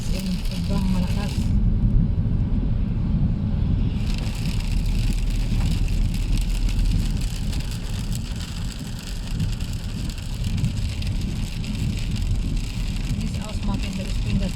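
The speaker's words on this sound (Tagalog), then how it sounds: "malakas ng ulan, grabe" Heavy rain pounds a car driving at night, a dense steady hiss of drops on the body and windshield over a low road and engine rumble, with brief shifts in the wash partway through.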